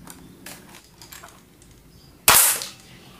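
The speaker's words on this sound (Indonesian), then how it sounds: "Coba saya kokang, kemudian mau saya tembakin ke kardus ini ya." A single sharp crack as a D'Cobra M802 spring airsoft sniper rifle fires into two-layer cardboard, loud and sudden after a stretch of quiet handling noise.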